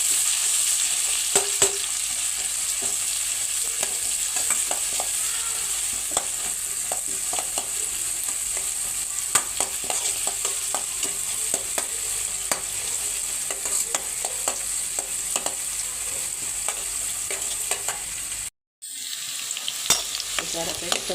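Onions, kasuri methi and cumin stir-frying for pav bhaji, a steady close sizzle with scattered scraping clicks of a spoon, broken by a brief silent gap near the end before the frying resumes.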